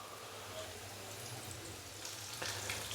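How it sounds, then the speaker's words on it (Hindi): Fish pieces frying in hot oil for a spicy masala fish curry, a steady, soft, continuous sizzle with dense crackle that brightens toward the end, with no talking. "फ़िश के पीसीज मैंने ऑयल के अंदर फ्राई होने के लिए डाल दिए हैं।"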